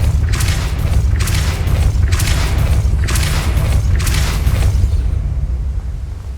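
A Depulso spell in Hogwarts Legacy sounds as a run of four or five heavy booming blasts in an even rhythm, loud and close over a deep rumbling bed, fading at the end.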